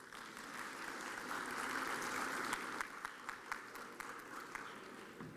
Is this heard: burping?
no